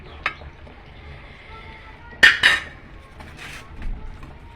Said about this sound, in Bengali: একটু নেড়ে ছেড়ে ঢাকনাটা দিয়ে দিব